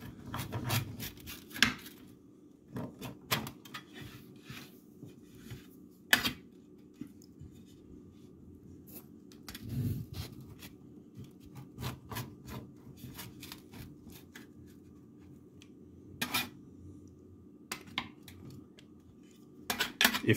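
Knife or cutter scraping and crunching through the crust of a Ristorante pepperoni frozen pizza, a series of separate close cuts with pauses between strokes, no talking.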